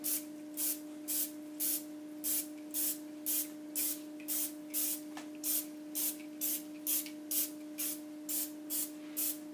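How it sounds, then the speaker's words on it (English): Repeated short hisses from an aerosol spray can of canola oil sprayed onto a mold, evenly spaced pumps over a constant low electrical hum, close up with no speech. "This is just canola oil. I'm just going to spray the mold here."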